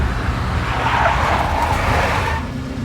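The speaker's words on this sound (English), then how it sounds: "A big black Mercedes." A big black Mercedes skids with a loud, sustained tire squeal and engine noise in the Max Payne video game, lasting nearly three seconds before easing off.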